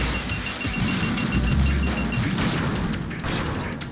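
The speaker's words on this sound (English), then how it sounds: "Run away from the missiles." Missile volley explosions in Metal Gear Solid 2 make a dense, continuous rumble of low booms and crackling blasts, loud and sustained throughout with no pauses and no talk.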